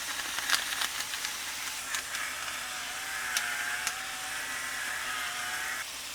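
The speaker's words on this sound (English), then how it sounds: "we'll let this cook down until the meat is all browned" Ground beef and onion cook in a pot for one-pot beef stroganoff, giving a steady hissing sizzle with a few sharp clicks and scrapes near the start; no one talks.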